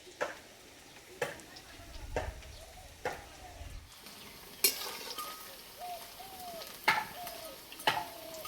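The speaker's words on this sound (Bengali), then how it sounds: "একটু সময় ধরে আস্তে আস্তে ভেজে নিলে পেঁয়াজগুলো খুব সুন্দর ভাজা হবে।" Sliced onions fry gently in a pan, a soft low sizzle broken by sharp scraping clicks of a spatula stirring roughly once a second, quiet and close.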